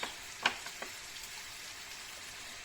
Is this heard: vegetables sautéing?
yes